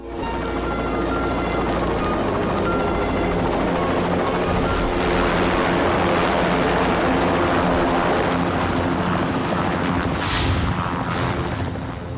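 A helicopter drones loudly and steadily nearby, its rotor wash a continuous heavy roar that fills the scene and swells slightly midway, with no talking.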